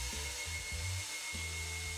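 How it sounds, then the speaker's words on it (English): A hairdryer blows on a wet photographic print, a close, steady whirring hiss with a constant high whine and low uneven flutters as it is moved. "So let's mount it and quickly dry with a hairdryer."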